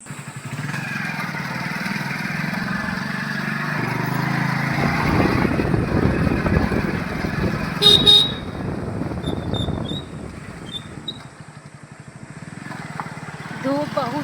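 A car pulls away into road traffic on a sunny Sunday outing, engine and road noise rising steadily while several short horn toots sound around the middle and near the end.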